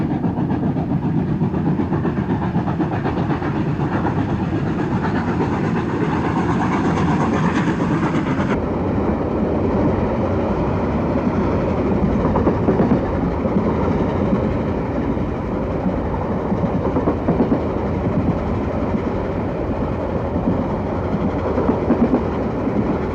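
Steam locomotive 3801 hauling the Western Endeavour runs on rails with a continuous loud rumbling roar and faint clickety-clack over the whole stretch, with no voices.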